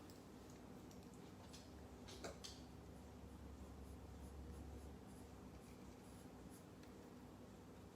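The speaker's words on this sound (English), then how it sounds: "So now I'm just going to kind of lay in a path. I'm just going to sketch it out." A pencil sketches a loose path on paper, soft continuous scratchy strokes close by under a steady low room hum, with a couple of small taps.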